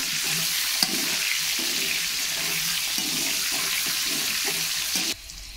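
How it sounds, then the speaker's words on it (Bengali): Potatoes frying with salt in a pan for a home-style chicken dish, a steady loud sizzle running continuously up close before cutting off near the end, with a few faint stirring knocks. "লবণ দিয়ে আলুগুলো আমি লাল লাল করে ভেজে নেব।"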